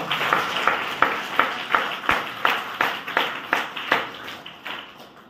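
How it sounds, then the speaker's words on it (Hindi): Rhythmic, unison clapping from a small group of tabla workshop students, about a dozen evenly spaced claps in a steady beat, moderately close in a room. "एक बार इनके लिए जोरदार ताली हो जाए"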